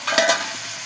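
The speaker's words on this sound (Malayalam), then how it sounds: "അവിടെ കിടന്ന് ഫ്രൈ ആകണം." Pre-cooked beef fries in a pan with pepper and ginger-garlic paste for beef varattiyathu, giving a short burst of close sizzling with a stir-scrape near the start, then a steady frying hiss, no talk.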